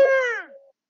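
A person imitates an elephant's trumpeting call with their voice: one short, bright, tonal blast that starts loud, then fades and falls in pitch, with no other sound.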